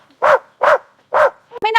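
A dog barks three times in a steady, evenly spaced rhythm, loud and close, then ends with a short high whining yelp.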